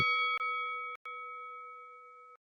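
A bright electronic chime rings out in a few quick pings, followed by a clear sustained tone that hangs briefly before cutting off cleanly.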